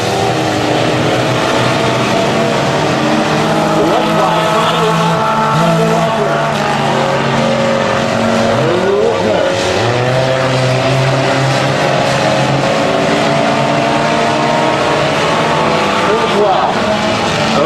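Race cars roar around a 250 speedway track at night, engines droning loudly and continuously with rising and falling pitch as they power through the corners, with a commentator talking over the noise.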